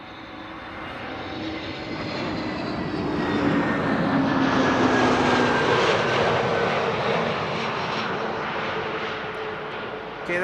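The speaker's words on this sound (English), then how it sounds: "KLM A321neo arriving from London Heathrow, flight 1002" KLM Airbus A321neo jet airliner arriving at Amsterdam Schiphol from London Heathrow, a steady engine roar that swells as it passes nearby and then slowly fades, with a faint whine riding over the broadband rumble.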